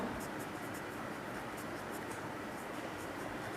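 Numbers are handwritten on a class 8 maths worksheet, giving a faint, steady scratching of pen or pencil on paper that runs continuously under a soft background hiss.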